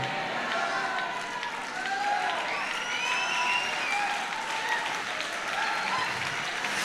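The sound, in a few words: audience clapping loudly in a church service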